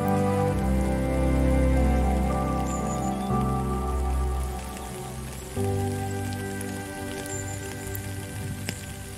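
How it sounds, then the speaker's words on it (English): Rain falls steadily at a hotel during a trip in India, a soft continuous patter on surfaces under a low, droning background hum, with no voices. "The rain has started."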